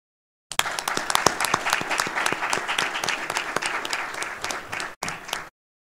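An audience claps steadily in honor of Hampton President Dr. William Harvey, a dense, sustained round of applause that cuts off briefly near the end and then resumes for a moment.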